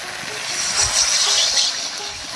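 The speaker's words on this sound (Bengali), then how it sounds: "জলটা একটু বেশি করে দিলাম" Water hits hot oil and fried spices in a pan of Bengali pointed-gourd curry made with egg fritters, raising a steady, loud hiss of sizzling that holds throughout.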